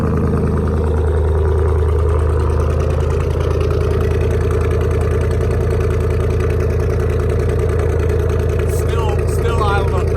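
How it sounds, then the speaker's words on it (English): A loud, steady idle from a Chevrolet Silverado pickup's 5.3 V8 with true dual straight-pipe exhaust, a deep low rumble and raspy exhaust, idling high, continuous throughout and close by. "Still idling up pretty high."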